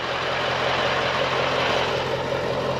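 A tractor engine runs steadily in a wet spring field during ploughing, a constant loud low rumble with a broad noisy hiss and no breaks or changes.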